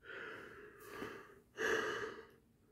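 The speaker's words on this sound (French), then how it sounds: "Excusez-moi si je baille" Two drawn-out breaths of a yawn, the second louder and more voiced, close and quiet with no words.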